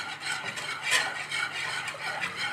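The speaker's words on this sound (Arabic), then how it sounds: "هفضل بقى انا هقلب في البشاميل لحد اما يبتدي ايه يرقص كده" A wooden or metal spoon steadily stirs and scrapes thickening béchamel sauce, seasoned with salt and black pepper and with melted cheese, around a pan in a continuous close, soft rasping rhythm with no talking.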